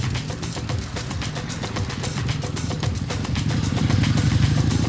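A motorcycle engine runs at a steady mid-pitched rumble with rapid clattering pulses, growing slightly louder toward the end, on a Buenos Aires city commute.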